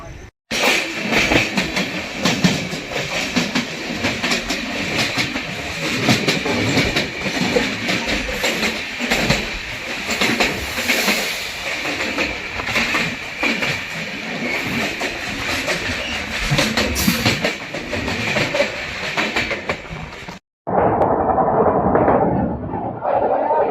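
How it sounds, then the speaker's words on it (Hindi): The new Amrit Bharat Express races at about 130 km/h through a railway station without stopping on its inaugural Howrah–Anand Vihar run. A steady, loud roar of wheels and rattling carriages fills the clip, broken by a brief dropout near the end. "भाई फ्लैट 130 स्किप मार रही है रेलवे स्टेशन को अपनी अमृत भारत"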